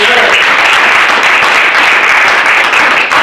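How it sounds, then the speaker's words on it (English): At a sales meeting, a crowd welcomes a presenter with loud, continuous applause: many hands clapping together in an even, sustained wash. "Let's give Tom a round of applause."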